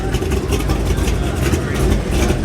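Engine of a Ford GT350R with aggressive cams and a full carbon fiber body idles loudly and close by at a local car meet, a steady rumbling drone with no clear revs.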